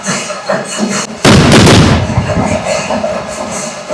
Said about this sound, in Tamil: நல்லா இரும்புல செஞ்சு உள்ள மருந்து வச்சு அதுல வந்து வெடி வைக்கிறாங்க.